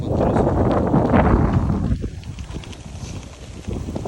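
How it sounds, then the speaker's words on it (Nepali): Blustery wind rushing across the microphone, loud and broadband, easing slightly partway through before gusting again. "मजा छ कि सरर हावा चलिरहेछ"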